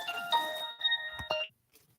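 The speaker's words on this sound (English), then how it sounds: "Sorry about that. I had a phone call." A phone rings with an incoming call, a bright electronic ringtone of steady chiming tones that plays for about a second and a half, then stops abruptly, followed by a brief faint sound.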